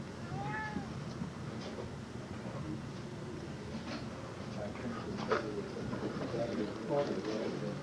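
A cat meows once, fairly close, then the scene fills with steady room noise, some movement and faint voices in the background.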